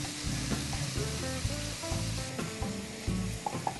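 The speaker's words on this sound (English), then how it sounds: "Start with a teaspoon of oil, and in go the shrimp." Shrimp drop into a teaspoon of hot oil in a pan and fry with a brief, fairly quiet sizzle, accompanied by a low rhythmic background hum.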